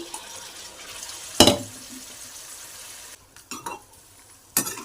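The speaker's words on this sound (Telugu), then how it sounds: "కొద్దిగా మసాలా నీళ్ళు వేసుకుందాం" Spiced masala water pours into a hot frying pan with a short burst of sizzling, followed by quieter stirring and a couple more splashy hisses.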